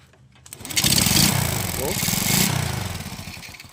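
A small motor is started during a power outage, sputtering up to speed and then running in loud, uneven surges close by, with people talking over it.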